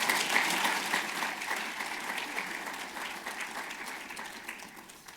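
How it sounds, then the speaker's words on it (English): Conference audience applause for sponsors at a mobility summit, a full burst of many hands clapping that starts strong and gradually thins and fades toward the end. "Please give them a round of applause."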